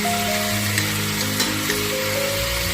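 Carrots and onions fry in oil in a cooking pot for bograch, giving a steady, dense sizzle and crackle with occasional faint clinks under a constant hum, close and fairly loud throughout.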